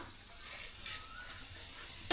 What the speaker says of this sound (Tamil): எண்ணெய்லாம் சூடாயிடுச்சு கடுகு சேர்த்துக்கலாம்